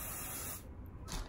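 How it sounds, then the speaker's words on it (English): Sebastian Shape Plus professional hairspray sprayed onto hair, a close, steady hiss lasting about a second before fading, with a brief burst near the end. "So it looks like this, and I just spray"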